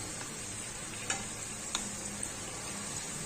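Suryakala, a South Indian Diwali sweet, fries in hot oil with a steady, even sizzle that runs throughout, broken by a few soft clicks from the pieces being turned.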